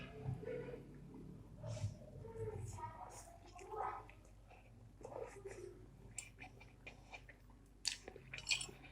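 Close, faint chewing of chewy Bon Cabe noodles, with wet smacks and soft crunches in an uneven rhythm and a few quiet breaths, alone without talk.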